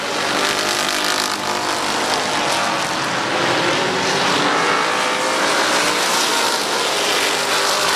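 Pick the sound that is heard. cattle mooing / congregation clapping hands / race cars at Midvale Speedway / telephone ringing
race cars at Midvale Speedway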